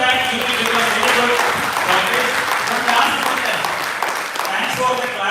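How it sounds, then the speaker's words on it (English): An audience at a university event claps steadily and loudly while a voice speaks over the applause. "Thanks for the clapping."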